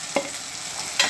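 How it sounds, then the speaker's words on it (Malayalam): Grated coconut stirred with onions in a pan, a spoon scraping in a couple of short strokes over a steady low frying sizzle. "തേങ്ങ ഇട്ടിട്ട് കുറച്ച് സമയം അത് ഇളക്കി നന്നായി ഇളക്കിയതിന് ശേഷം"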